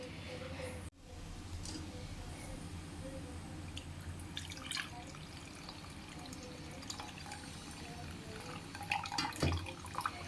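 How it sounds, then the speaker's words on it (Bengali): Tamarind soaking water is strained through a sieve in a home kitchen, giving a steady trickle and dripping of liquid throughout with a few brighter splashes near the end. "জলটাকে ভালো করে না ছেঁকে নেব"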